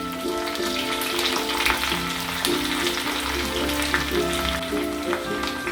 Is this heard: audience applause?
no